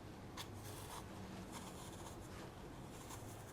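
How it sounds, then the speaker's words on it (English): A cored Granny Smith apple being peeled, giving faint, soft scraping strokes that repeat at a loose rhythm over a quiet background hiss. "Now that I've got my apple cored, I'm going to go ahead and give this a peel."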